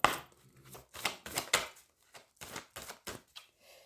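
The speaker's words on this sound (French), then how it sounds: "Il n'est pas évident à mélanger parce que les cartes sont vraiment cartonnées." Stiff cardstock oracle cards are shuffled by hand, producing a run of crisp riffling bursts and slaps in an irregular rhythm, close and fairly quiet with no talking.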